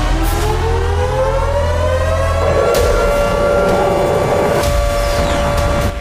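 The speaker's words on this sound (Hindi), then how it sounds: "कीव में खतरे का सायरन गूंजने लगा।" An air raid siren wails over Kyiv at 2 a.m., a loud, sustained tone that slowly rises in pitch and fills the whole stretch, with a steady low rumble beneath it.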